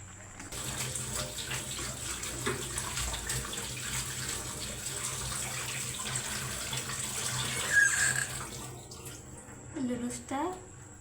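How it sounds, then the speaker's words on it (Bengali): Cold tap water runs steadily over boiled noodles in a kitchen sink, a continuous close splashing stream with a few clinks near the end. "লুডুসটা ঠান্ডা জল দিয়ে ভালো করে ধুয়ে নিলাম।"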